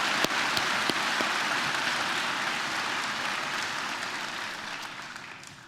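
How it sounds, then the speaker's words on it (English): A high school senior awards audience applauds the donors, a dense wash of clapping that starts loud and slowly fades over several seconds. "Please join me in giving a huge North Penn round of applause for all of our donors."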